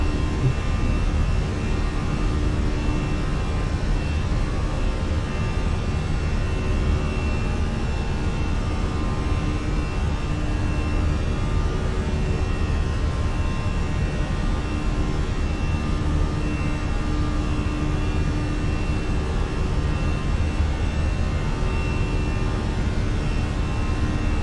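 Airliner jet engines climbing after takeoff in Microsoft Flight Simulator, a steady loud broadband roar with a low rumble that holds evenly throughout, alone with no talk.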